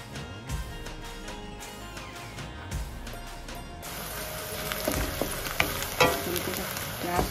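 Three or four dried red chillies hit hot oil in a pan, giving a busy crackling sizzle with scattered pops and stirring clatter that grows denser partway through.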